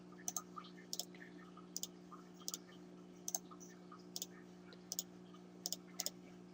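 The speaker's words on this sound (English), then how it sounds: "I'm just going to click on them one at a time." A computer mouse clicking while assets are imported, sharp quiet double clicks repeating at steady intervals over a constant low electrical hum, no voices.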